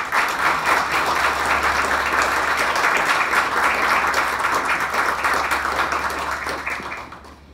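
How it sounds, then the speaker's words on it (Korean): An audience in a university lecture hall applauds at a professor's farewell lecture and retirement ceremony, a full, steady clapping that holds for about seven seconds and then tapers off. "마찬가지로 박수로 주셨으면 감사하겠습니다."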